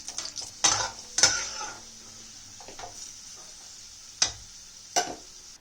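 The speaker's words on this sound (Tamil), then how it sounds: "அடுத்தது இதுல ட்ரை கிரேப்ஸ் சேர்த்திக்கோங்க. இப்போ இதை நல்லா வறுத்து எடுத்துக்கோங்க." Raisins roasting in hot ghee in a kadai, with a few sharp scrapes and clinks of a stirring spoon against the pan over a faint, steady sizzle; no voices.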